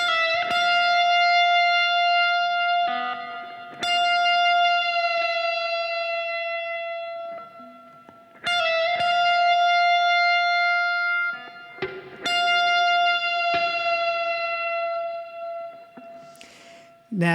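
Electric guitar riff, played with string bends, sustained singing notes sliding between pitches in a repeating phrase, clear and close with no talk.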